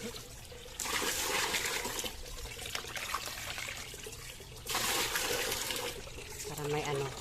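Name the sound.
running water for watering plants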